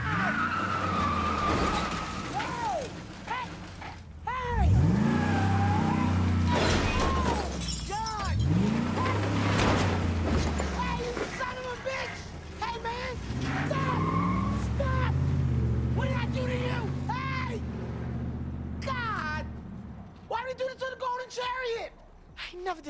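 A car speeding and skidding in a hit-and-run from the 2022 film Me Time: revving engine, squealing tires and shattering impacts, with shouting voices heard over the chaos.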